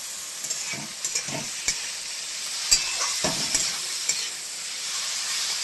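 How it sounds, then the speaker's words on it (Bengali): Shrimp sizzling in hot oil in a pan, a steady loud crackling hiss with occasional pops and stirring knocks as the shrimp go in one by one, no voices. "এবার একে একে চিংড়ি মাছ এই দেখুন আমি করে দিচ্ছি তেলের উপর, পুরোটাই দিয়ে দেবো আস্তে আস্তে করে"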